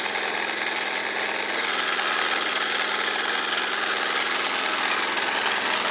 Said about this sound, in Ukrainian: Так. Насос працює.